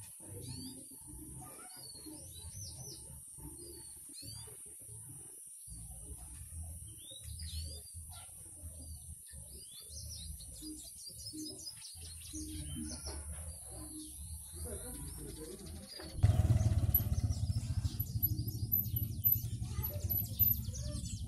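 Pet birds kept by a villager with a collection of hundreds of species, chirping and twittering in many short repeated calls, near and fairly clear, with chicken-like clucks and a louder rush of noise joining toward the end.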